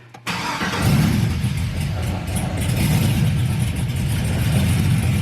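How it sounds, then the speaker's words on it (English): A 2000 Chevrolet Silverado pickup's engine cranks over and catches, then settles into a loud, steady rumbling idle close by, with no talking. "So now I'm gonna start the car."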